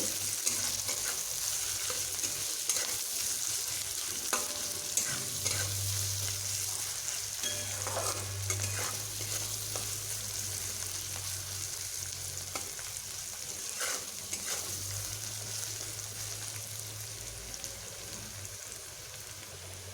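Onions frying in a pan until light brown, heard as a steady, moderately quiet sizzle with occasional soft stirring clicks and a low hum running underneath throughout.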